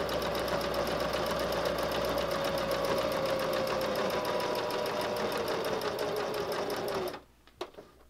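A sewing machine stitches steadily around a quilted heart, a continuous close whirring hum for about seven seconds before it stops abruptly, followed by a couple of faint clicks.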